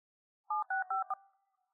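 Touch-tone telephone dialing heard in a tense drama scene: a quick run of four or five clear, evenly spaced keypad beeps, close and loud, with no talking.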